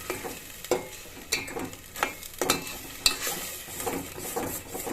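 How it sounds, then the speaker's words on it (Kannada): Spice masala frying in oil for a bitter gourd sambar, with a steady sizzle under regular scraping strokes of a spoon stirring in the pan, loud and close. "ಇದು ಮಸಾಲೆ ಎಲ್ಲ ಈ ಥರ ಎಣ್ಣೆಯಲ್ಲಿ ಫ್ರೈ ಮಾಡ್ಕೊತೀನಿ"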